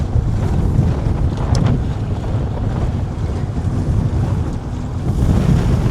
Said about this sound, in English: this wind is just ridiculous right now